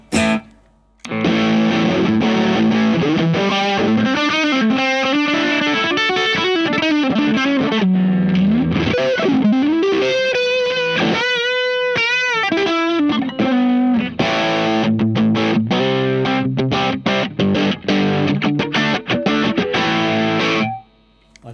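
An electric guitar played through a JCM800 amp-in-a-box pedal on its clean setting carries a continuous run of chords and melodic lines, full and loud with no talking over it.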